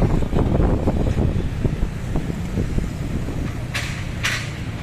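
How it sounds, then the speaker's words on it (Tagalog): Steady wind buffets the microphone in a continuous low rumble and roar on Timog Avenue, Quezon City, Philippines, with brief hissy gusts near the end; no one speaks. "Medyo mahangin. Ang daloy ng hangin. Simoy ng hangin."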